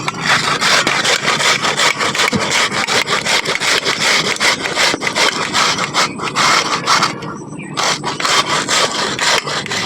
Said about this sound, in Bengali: পেঁয়াজটা আমি ঘষে নিয়েছি